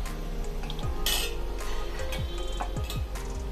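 Cooked dal is stirred in a cooking pot, with a metal spoon clinking and tapping against the pot in repeated knocks over a low background hum.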